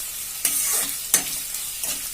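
Chopped garlic hits hot oil and fries for chilli chicken, a loud, steady sizzle broken by a few sharp stirring scrapes close by.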